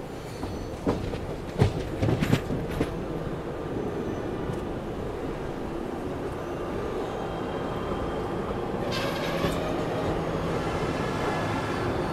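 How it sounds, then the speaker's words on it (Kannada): An express train arriving at Yesvantpur Junction railway station in Bengaluru rumbles steadily through the whole stretch, with a few sharp metallic clanks early on and a faint rising whine near the end. "ಇದು ನಮ್ಮ ಮೈಸೂರು ತಾಲೂಕು ಎಕ್ಸ್ಪ್ರೆಸ್ ತಲುಪಿದೆ ಯಶವಂತಪುರ ಜಂಕ್ಷನ್ ರೈಲ್ವೆ ಸ್ಟೇಷನ್ಗೆ"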